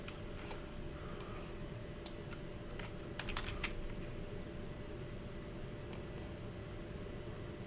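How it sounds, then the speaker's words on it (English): Typing on a computer keyboard comes through as scattered light key clicks, sometimes in quick short runs and sometimes singly, over a steady background hum. "let's type them all in"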